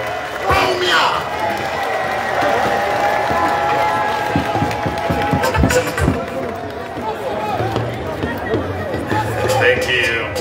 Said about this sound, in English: With the biggest round of applause, let's welcome His Excellency, Dr. Mahamadou Bawumia.